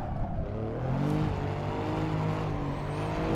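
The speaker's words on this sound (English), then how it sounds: "It's a turbocharged V6 that's not revving particularly high" The turbocharged V6 of an Alfa Quadrifoglio in Assetto Corsa drones at moderate revs, a continuous close engine note with slowly rising and falling tones and faint tire noise, loud and alone without talk.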